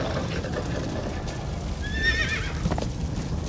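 A horse in the Minecraft Story Mode video game gives a clear, high whinny midway, over a steady bed of clip-clopping hooves. The sound is moderately loud, with no voices.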